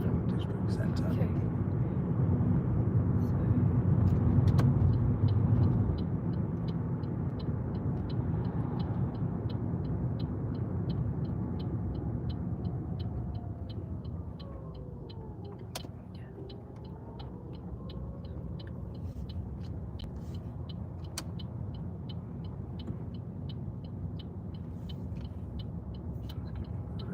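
A car moves through a driving lesson toward a roundabout, its engine and road noise forming a steady, low rumble that fades slightly partway through.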